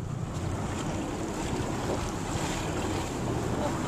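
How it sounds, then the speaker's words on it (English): Waves slap against a small fishing boat out on open water while steady wind buffets the microphone, a continuous, rough wash of water and wind noise with no pauses. "It's going to get heavy with the waves."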